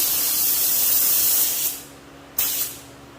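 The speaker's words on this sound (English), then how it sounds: "we're just going to do an initial spray, just a quick spray, to see what our pattern looks like" A paint spray gun gives a quick test burst while setting the spray pattern for a 1972 Camaro: a steady loud hiss that stops, then a second short burst after a brief pause, close and without talk.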